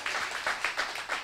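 A church congregation at a prophetic sermon bursts into loud, rhythmic clapping, a series of about six quick claps in steady beats heard up close.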